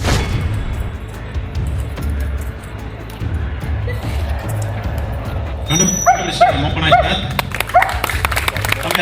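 Several dogs bark in a short burst of sharp, fairly close barks that rise over steady background noise near the end.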